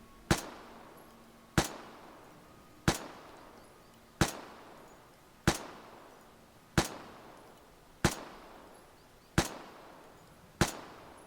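Grease Gun submachine gun in the game Vigor, fired as nine single sharp shots at an even pace of about one every 1.3 seconds, each with a short decaying tail, loud and alone.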